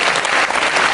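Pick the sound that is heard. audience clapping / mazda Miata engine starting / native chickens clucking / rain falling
audience clapping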